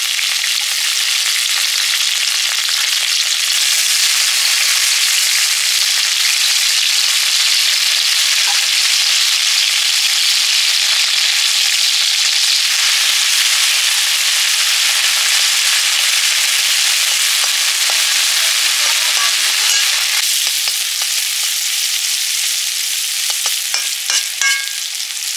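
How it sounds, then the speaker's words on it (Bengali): Small river fish fry in hot oil in a wok, giving a loud, continuous, hissing sizzle with faint crackles and no talking throughout. "মাছগুলো আগে ভেজে নেব"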